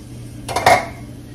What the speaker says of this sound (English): I'm just stirring up that flour on the bottom, y'all